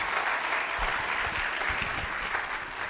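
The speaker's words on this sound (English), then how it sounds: "I think we should have a round of applause for our reciters" Audience applause for reciters at a spiritual talk in London: a dense, steady wash of many hands clapping, loud and sustained throughout.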